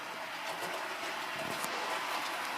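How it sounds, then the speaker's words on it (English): A model train runs around a layout, a steady rolling rumble with faint clicking of wheels over track joints, moderately loud and continuous. "there's that train again, going round and round and round, but that's okay"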